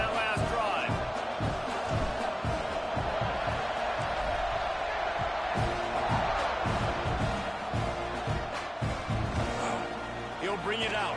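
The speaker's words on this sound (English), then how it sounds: "this crowd is feeling themselves after that last drive." In a football video game, a stadium crowd roars continuously under commentary, a broad steady wash of noise with people talking over it throughout.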